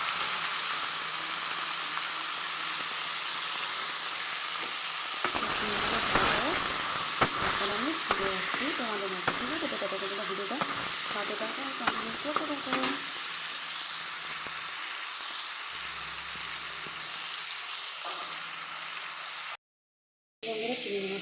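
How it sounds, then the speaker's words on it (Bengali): Prawns fry in hot oil, sizzling and hissing steadily throughout, with a person talking over the middle stretch and a brief cut to silence near the end. "আমি একবারে চিংড়িগুলোকে ভেজে নিই"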